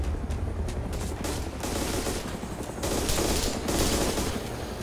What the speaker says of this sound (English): We are being absolutely shot at.